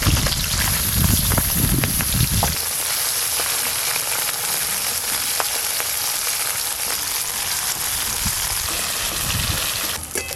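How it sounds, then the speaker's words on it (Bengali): Small fish rubbed with salt and turmeric crackle in hot oil, a loud dense sizzle that drops to a softer steady hiss after a couple of seconds. "মাছে ভালো করে লবণ হলুদ মাখিয়ে ভেজে নেব"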